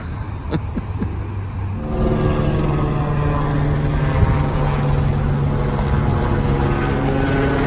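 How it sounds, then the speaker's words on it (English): A steady low engine drone and rotor thrum fill the air continuously, loud and constant overhead, with no talking. "Always them helicopters flying around here, non-stop."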